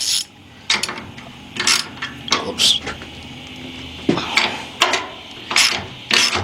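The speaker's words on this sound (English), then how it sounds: "Then I'm gonna take a 13mm socket" A ratchet with a 13mm socket removing nuts from an engine on a Chevy Equinox or Buick Rendezvous, giving repeated bursts of clicking pawl strokes in short runs, close and fairly loud.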